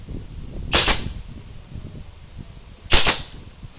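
Two loud, sharp staple gun shots about two seconds apart, fastening split rattan for a basket base, close up with faint background noise between them.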